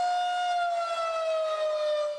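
San Francisco's outdoor emergency warning siren, a loud sustained wailing tone slowly falling in pitch, rich in harmonics and heard alone with no voices over it.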